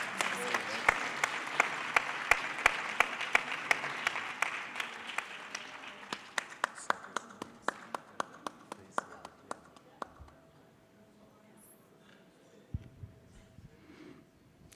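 Audience applause at a summit session in South Africa, a dense burst of clapping that thins out into scattered individual claps as it fades, with some talk underneath.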